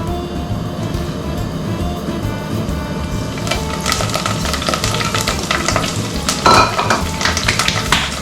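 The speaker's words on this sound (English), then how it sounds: "So this is heating up, olive oil. So we're going to put all the herbs from the garden." Garden herbs drop into hot olive oil in a pan, setting off a close, steady sizzle that swells partway through, with scraping stirs and a few clinks of cookware on top.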